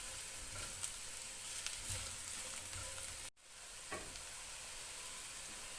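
Onions and carrots stir-frying for chicken and vegetable chow mein, a steady close sizzle with a brief clatter of stirring and a sharp break midway before the frying hiss resumes, no voices.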